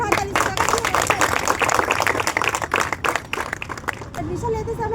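An audience claps loudly for someone at an indoor gathering, dense sustained applause from a crowd that thins toward the end as a voice begins speaking.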